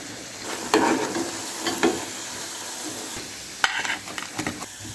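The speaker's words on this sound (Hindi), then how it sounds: "जो भी बाकी टिक्कियाँ बची हैं अभी मैं फ्राई कर लेती हूँ" Potato tikkis fry in a pan for a club sandwich, a soft steady sizzle broken by a few louder stirring and scraping clicks, close by with no talking.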